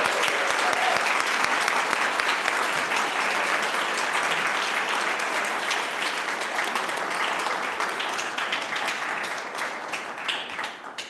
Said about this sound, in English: Let us welcome our new members with a round of applause.